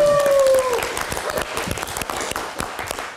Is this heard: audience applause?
yes